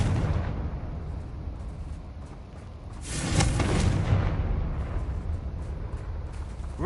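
The Confringo spell explodes in Hogwarts Legacy with a deep, rumbling blast that swells around the middle and then fades back into the low, roaring background of the game.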